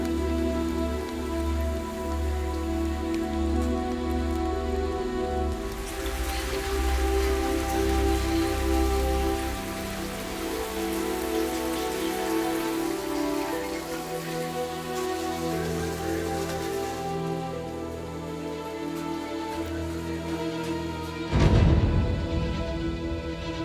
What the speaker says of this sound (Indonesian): Mulai gelap, hujan turun